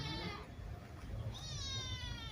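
A cat meows twice, each call drawn out and wavering, heard indoors over steady low background noise in a Javanese household.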